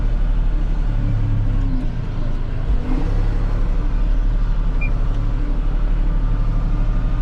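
Kubota Grand L tractor creeping slowly while grading gravel, its engine a loud, steady low rumble that holds an even drone throughout, with only a slight dip in the middle.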